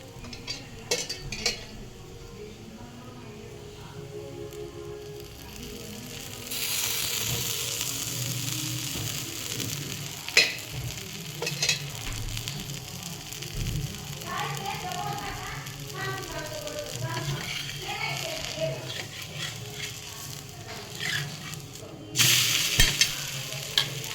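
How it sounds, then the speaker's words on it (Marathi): A bottle gourd thalipeeth paratha sizzles on a hot tawa with a continuous soft frying hiss, punctuated by scraping, spatula clinks and pan knocks, while a voice talks intermittently nearby. "हा झाला लौकीचा पराठा टाकून तव्यावर"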